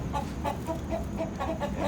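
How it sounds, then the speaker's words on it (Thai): Several chickens cluck in short repeated bursts at moderate distance over a constant background murmur, at a rural Thai farm keeping gamecocks. "มีไก่ อยู่แค่สามตัวนะครับ"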